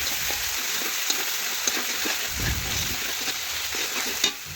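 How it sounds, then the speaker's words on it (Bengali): Spice masala fries in hot oil with vegetables, a continuous dense sizzle with occasional stirring scrapes and small pops, close and fairly loud throughout. "এখন মশলাটা তেলের মধ্যে দিয়ে বেশ কিছুক্ষণ একটু মশলাটা ভেজে নেব"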